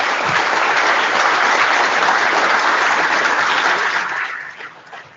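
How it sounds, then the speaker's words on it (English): Loud, dense audience applause at an IETF 114 conference plenary, holding steady for about four seconds before tapering off quickly. "This is your applause."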